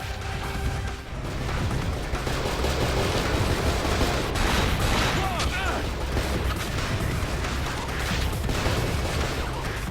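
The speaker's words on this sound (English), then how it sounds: "And there's guys shooting at us from way back there." Enemy gunfire in the video game Cold Fear, coming from far back, heavy sustained bursts of shots and booms that roll on continuously across the whole stretch, loud and dense.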